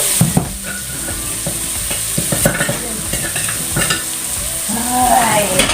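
Bitter melon shoots stir-fried in a hot pan give a continuous loud sizzle with scraping stirring strokes and occasional clinks, heard up close without talk.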